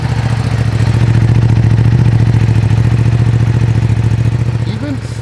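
Stock Ducati Panigale V2 motorcycle engine running close up, a loud, steady, rapid throbbing pulse with a low rumble and mechanical clatter, holding even throughout, with a brief voice near the end.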